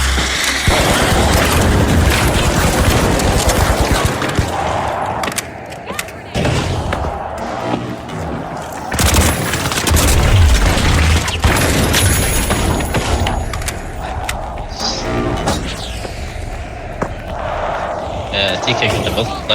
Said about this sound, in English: Firing thermite.